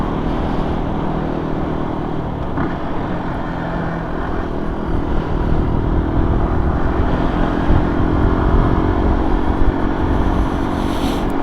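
A motorcycle rides along a road with a steady engine drone and rushing wind noise heard continuously from the rider's position.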